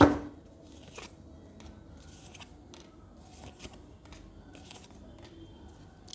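Tarot cards being shuffled by hand, soft irregular flicks and riffles, close and faint, after a brief louder knock at the start.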